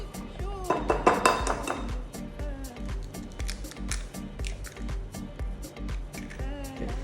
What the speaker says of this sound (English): I'm going to crack 3 eggs into it